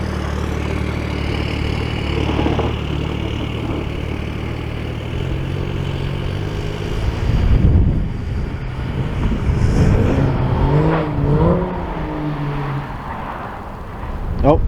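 A Ford Fiesta drives through snow, its engine humming steadily before revving and accelerating away with rising and falling pitch, moderately close, while people talk over it.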